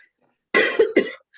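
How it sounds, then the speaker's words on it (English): A man's cough during a public audit meeting: two quick, close coughs in a row, loud and dry, with nothing else around them. "Excuse me. I've been dealing with a cough since Christmas."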